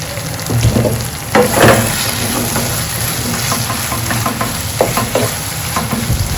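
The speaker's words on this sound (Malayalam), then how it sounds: "ഉള്ളിയും തക്കാളിയും പച്ചമുളകും പിന്നെ ഇതൊക്കെ കൂടി നന്നായി വഴന്നതിന് ശേഷം" Onion, tomato and green chilli masala sautéing in a pan for a Kerala mussel biriyani: a steady close sizzle with scraping stir strokes and clattering spikes throughout.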